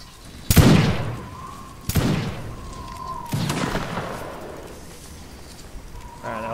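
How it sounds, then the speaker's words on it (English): Musket volleys ring out in Mount and Blade: Napoleonic Wars, three sharp booming cracks a second or so apart, each rolling into a long echoing tail, with faint battlefield noise between them. "let's have everybody fire at will for just a minute"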